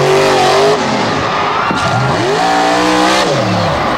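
Monster truck at the 2022 Thunder in the Valley event, its engine revving loudly as it charges the backflip ramp, with repeated rising and falling surges close by and no voices.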